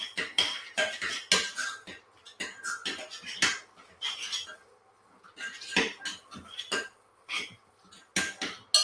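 A spoon mixing spinach through a ricotta sauce with salt and pepper in a bowl, giving repeated close clinks and scrapes in an irregular rhythm, with short quiet gaps and no talking.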